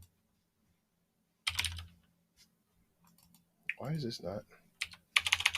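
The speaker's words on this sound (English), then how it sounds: "Now we're going to go ahead and type in Kali" Typing on a computer keyboard while setting up a lab virtual machine, with a few scattered clacks, a short burst of keystrokes and a final quick run, nearby and clear, interrupted by someone speaking briefly.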